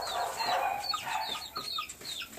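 Rooster and hens clucking close up in a backyard flock, a quick run of bright overlapping clucks and squawks with no talk.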